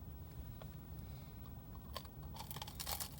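Several crisp, crackling crunches of a hot, crunchy fried Taco Bell Cheesy Chicken Crispanada being bitten into and chewed, bunched together near the end over low background noise, close and fairly loud.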